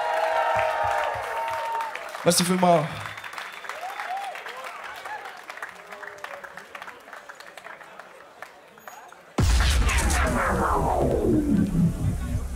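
A concert audience at the KuFa Lyss claps and cheers after a live set, loud crowd applause heard after a brief spoken thank-you, with talking over parts of it.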